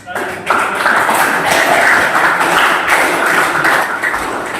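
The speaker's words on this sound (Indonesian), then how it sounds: "silakan boleh tepuk tangan untuk" A crowd claps in loud, dense applause that starts abruptly and holds steady for several seconds before easing slightly, at a teacher professional education session.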